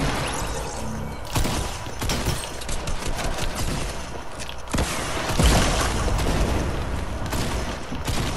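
Shotgun and RPG fire in a Fortnite duos match, a close, loud series of sharp blasts and booming explosions in quick bursts.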